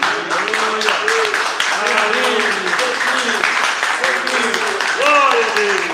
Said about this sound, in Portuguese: Vamos dar uma salva de palmas pelas essas vidas